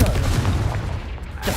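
A Confringo fire spell explodes in Hogwarts Legacy: a loud, booming blast with a deep rumbling tail that fades, then a fresh burst of noise right at the end.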